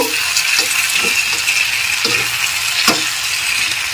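Rohu fish curry with spices, winter vegetables and bori is stirred in a pan, a continuous close sizzle with repeated scraping strokes of the spatula about every half second.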